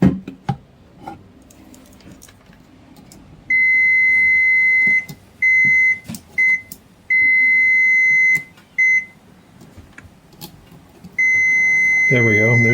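Multimeter continuity tester on a Sunn SA20 amplifier finding shorted output devices, sounding a series of loud sustained electronic beeps of varying length separated by short gaps and probe clicks.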